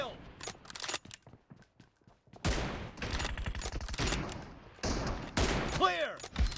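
Rapid bursts of gunfire from a shooting video game, with sustained fusillade-like volleys and machine-gun rattles, loud and close, plus a few quieter single shots, and voices talking in between.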